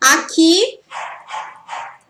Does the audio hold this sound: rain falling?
no